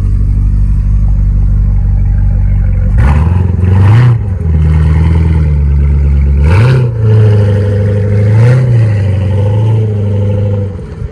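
A combustion engine car idles nearby, then revs hard in several distinct bursts, each rising and settling back into a loud, steady running note at an EDF electric mobility day event at the Cattenom nuclear plant.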